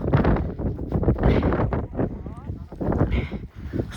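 Strong gusty wind on a snowy mountain at Kasprowy Wierch near Zakopane, Poland, buffets the microphone with loud low rumbling, while a person speaks over it.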